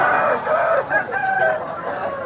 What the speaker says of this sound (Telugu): ముద్ద జుట్టు కలిగినటువంటి కోడి పుంజు.